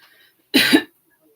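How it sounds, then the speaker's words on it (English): A single short, forceful throat clearing, close and loud, stands alone against near silence. "Sorry, I have to clear my throat."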